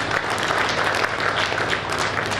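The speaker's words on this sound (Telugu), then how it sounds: "ఒక్కసారి గట్టిగా అందరూ క్లాప్స్ చేయాలండి." Audience applause at the opening of a housing venture in Kadthal, a dense steady clapping from a crowd that holds at the same level throughout.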